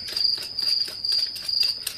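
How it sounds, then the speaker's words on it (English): Crickets chirp in a fast, high, pulsing trill that repeats in short bursts, fairly faint and steady across the whole stretch with no talking. "Crickets."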